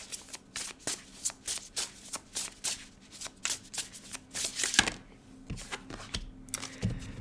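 Oracle cards are shuffled by hand in a steady run of crisp, close riffling slaps, evenly paced with a few brief pauses, and no voices over them.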